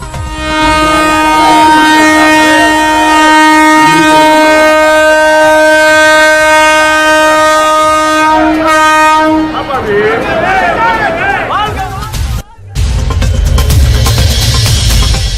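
The Tejas express train's loud horn blares with sustained harmonic tones for several seconds at Tambaram station, followed by the roar and rumble of the train rushing past close by.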